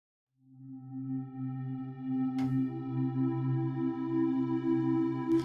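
Ambient pad patch built in the Omnisphere synthesizer, sustaining a soft layered chord with steady harmonic tones, a gentle velocity-driven swell and a brief bright shimmer midway, played alone without talk.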